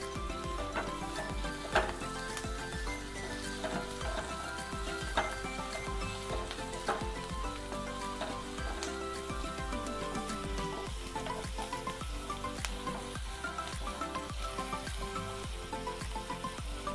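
Ginger, garlic and curry leaves frying in hot oil for a scrambled egg curry make a dense, steady sizzle with rapid crackling pops and occasional spoon taps, close and continuous with no talk.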